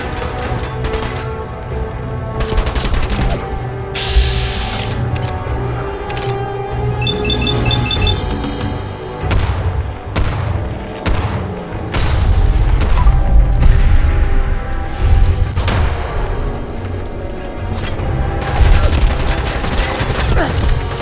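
Rapid bursts of gunfire and booming shots from the video game Fallout 4 pound continuously and loudly, with intermittent talk over the combat noise.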